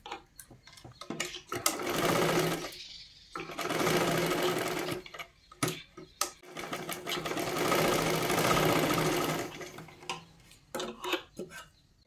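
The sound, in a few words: sewing machine stitching a katori blouse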